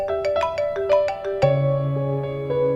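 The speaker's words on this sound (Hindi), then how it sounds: "देखें आपकी डार्लिंग का फोन आ रहा है, अटेंड करें" A mobile phone ringtone plays a bright, repeating melodic chime pattern, close and clear, alone without speech, in a Pakistani TV drama scene.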